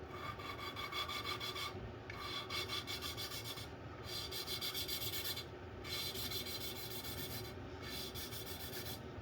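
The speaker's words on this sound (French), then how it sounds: "quand ça gratte, bah, c'est que c'est en train de rôder, c'est que c'est pas fini" Valve on a 1.4 TSI 140 engine being hand-lapped against its seat, a steady close gritty rasping scrape in repeated back-and-forth strokes with brief pauses between bursts.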